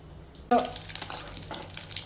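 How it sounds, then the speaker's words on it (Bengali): Breaded egg devils fry in hot oil with a sudden loud sizzle that starts as they hit the pan, then settles into a bubbling, crackling hiss at close range. "এদিকে একটা ভাজাও চলছে, ফার্স্ট স্টেপটা কি সুন্দর গরম গরম ভরভর ভরভর করছে"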